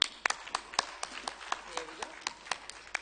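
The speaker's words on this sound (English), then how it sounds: "Big round of applause." A small audience claps for a speaker at a plenary session of the World Economic Forum, a sparse, uneven run of individual claps over about three seconds, fairly faint.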